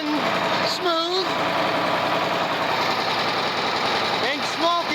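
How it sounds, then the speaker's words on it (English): Steady, rumbling idle of a diesel farm tractor engine, even and continuous at close range, with a person talking over it. "It seems to be idling smooth."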